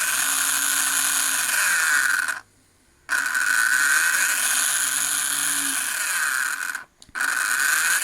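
A Revoslot Ford Escort Mk1 slot car fitted with a digital chip screams around the track in a loud, high-pitched electric motor whine, broken by two brief drops in sound.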